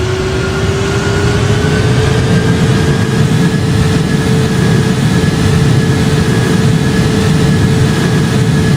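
Airbus A330 jet engine in the Project Flight game spooling up, a steady loud broadband roar with a low rumble and a faint rising whine, continuous throughout without any talk.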